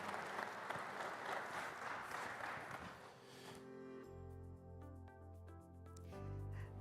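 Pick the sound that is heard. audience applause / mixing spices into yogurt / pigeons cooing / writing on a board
audience applause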